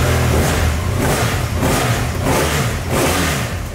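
A motorcycle engine fitted with a muffler revs loudly and close by, rising in several repeated throttle bursts over a constant throaty drone, with no talking.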